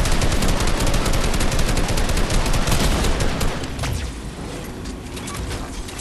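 Loud, dense automatic gunfire from a shooter video game, rapid overlapping shots rattling continuously before easing to a quieter, sparser barrage in the last couple of seconds.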